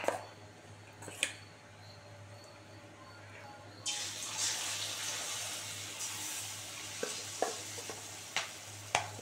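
Chili chops frying in hot oil: a steady soft sizzle with occasional sharp clinks of a utensil, brightening into a louder crackle partway through.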